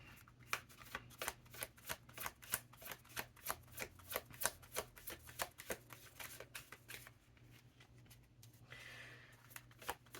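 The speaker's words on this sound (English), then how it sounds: "pull out some cards from the Psychic Tarot for the Hearts" Psychic Tarot cards are shuffled in a steady run of crisp riffling slaps, close and fairly quiet, with a softer rustle toward the end and no talking.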